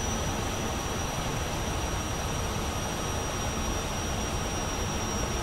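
A MiG-15bis jet engine in the DCS flight simulator, a steady, loud, unbroken roar and hiss with no pauses, the throttle eased back gently.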